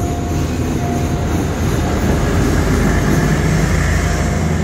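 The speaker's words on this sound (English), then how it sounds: "I can hear a train is coming through." A Bangkok Airport Rail Link train rolls past at a station with a loud, continuous rumbling roar and rattling wheels, sustained and close throughout.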